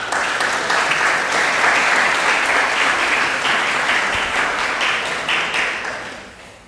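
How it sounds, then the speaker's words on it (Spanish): An audience at a book presentation on territorial narratives and urban planning gives a dense round of applause, steady and loud throughout before thinning and fading out toward the end, with no voices over it. "Aplausos, por favor."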